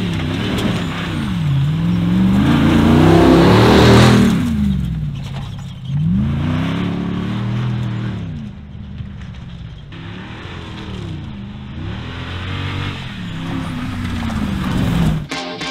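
A 426 Hemi V8 in a Jeep Gladiator overland build on 40-inch tires revs loudly and close, the deep exhaust note swelling and falling in several throttle blips with no voices.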